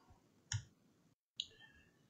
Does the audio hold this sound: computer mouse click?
yes